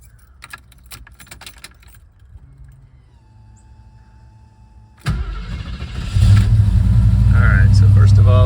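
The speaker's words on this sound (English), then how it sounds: "Let's go ahead and start it up, and we can talk about what's been done to the motor" A 1989 Jeep Grand Wagoneer engine cranks and fires up after some keys jangling and quiet handling, then settles into a loud, steady idle close by.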